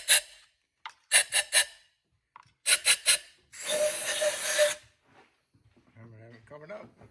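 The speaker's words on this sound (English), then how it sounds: "Remember, take your blowgun." Compressed air blowgun blowing out the spark plug wells of a 2015 Jeep Grand Cherokee 3.6, a loud hiss of about a second following several short clicking and ratcheting bursts, with someone talking briefly afterward.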